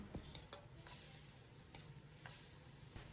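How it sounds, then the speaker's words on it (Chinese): Green pepper strips and diced tomato are stir-fried in a wok, giving a faint, steady sizzle with a few quick scraping tosses of the spatula. The sound is close but quiet, and nobody speaks. "放入切好的尖椒丝，简单翻炒扒拉1-2下，把尖椒丝炒至断生"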